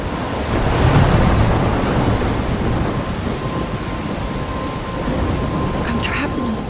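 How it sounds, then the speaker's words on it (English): A loud, steady roar of heavy rain and rumbling thunder in a storm near a lighthouse in the video game Life Is Strange, a dense, continuous wash of storm noise with a brief voice in the mix. "I'm trapped in a storm?"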